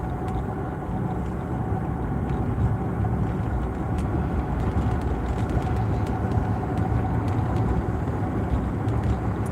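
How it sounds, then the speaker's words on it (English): A car engine rumbles continuously with a rough, uneven low drone, heard from inside the vehicle with no talking. "Ooh, the car sounds bad."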